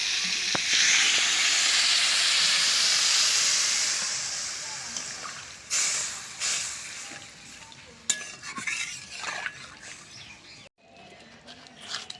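Potato and kohlrabi cooking in water in a pot for a thin Bengali bata fish curry, giving a steady hiss and bubbling simmer close by, broken later by stirring clatter and handling noises.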